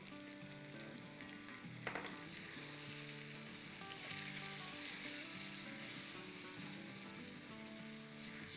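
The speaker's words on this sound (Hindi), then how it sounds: "इसको हम बस 30 सेकंड इसको फ्राई कर लेंगे" Salt, Kashmiri red chili powder and spices fry in hot oil for a raita tempering, a steady close crackling sizzle with faint stirring scrapes throughout.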